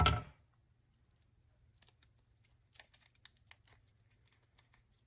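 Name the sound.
cutting a rounded divot in folded paper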